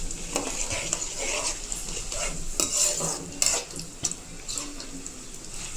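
Peanuts fry in oil with a busy sizzle, mixed with scattered pops and the scrape and clatter of stirring in the pan.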